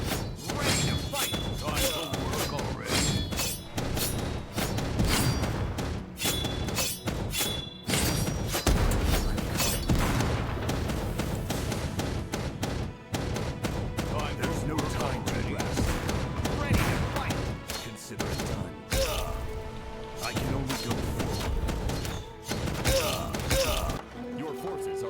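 A real-time strategy game battle in which tanks fire and explode, producing rapid, dense bursts of cannon shots, thuds and blasts with crackling debris throughout, loud and continuous with scarcely a pause.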